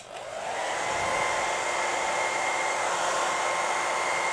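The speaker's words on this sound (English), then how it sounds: "And if we turn the hairdryer on," A hairdryer switches on and blows steadily at a small DIY wind turbine, rising over the first half second into a loud, constant whooshing hum with a faint whine, no talking.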